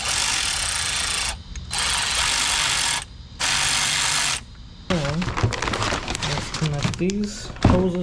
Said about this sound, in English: We have to unbolt the starter one more time